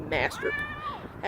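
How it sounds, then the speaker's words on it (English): A cat meows a few times in the background, short and somewhat faint, with a voice briefly audible nearby. "If you hear anything in the background, it's just a bunch of cats."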